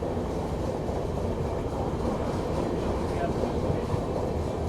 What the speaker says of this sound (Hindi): हमारी ट्रेन बढ़ रही है निज़ामुद्दीन की तरफ